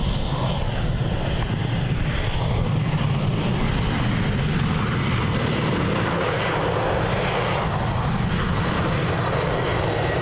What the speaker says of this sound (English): departing there, we have Virgin Australia flight VA91 off to Denpasar